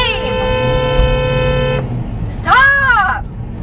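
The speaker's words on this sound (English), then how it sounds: "Stop honking him." A car horn honks in a sustained blast, then a second shorter, wavering honk follows at street level, with road noise and voices nearby.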